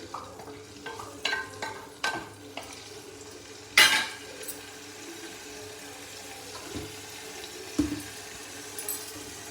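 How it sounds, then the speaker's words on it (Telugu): Green chillies and grated coconut frying together in oil, a soft sizzle broken by intermittent spatula scrapes and one sharp metallic clank, no talking. "ఆయిల్లో కొంచెం పచ్చిమిరపకాయలు, కొంచెం కొబ్బరి అన్నీ కలిపి వేయించుకోవాలి."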